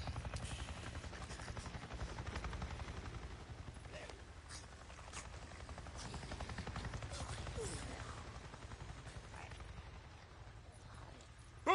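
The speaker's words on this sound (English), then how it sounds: "I just saw a goddamn chopper!" A helicopter flies overhead in the video game Days Gone, a low, steady rotor drone that runs continuously at moderate distance, with scattered sharp knocks over it.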